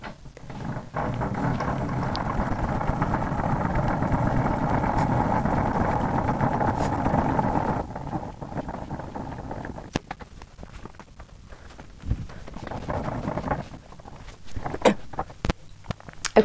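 A crank handle turns on the side of a height-adjustable sewing table to raise it, making a steady mechanical grinding whir for about eight seconds, followed by quieter knocks and clicks.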